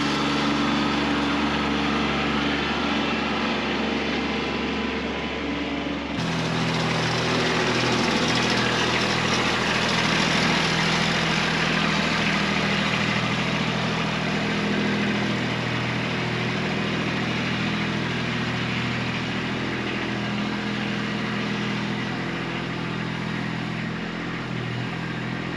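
Kubota B2601 compact tractor engine running steadily while moving a pile, a continuous near mechanical drone that rises slightly in level after the first few seconds and holds with no talking.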